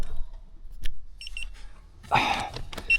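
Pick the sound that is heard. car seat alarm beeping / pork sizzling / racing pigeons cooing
car seat alarm beeping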